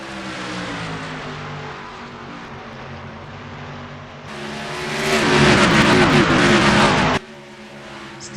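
A pack of race cars roars away at the start of the Brickyard 400 at Indianapolis Motor Speedway, engine drone building into a loud surging rush around five seconds, then easing off abruptly.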